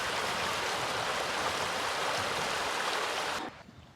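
Water at the seashore rushes in a steady, close, broadband wash for about three and a half seconds before cutting off abruptly to near quiet.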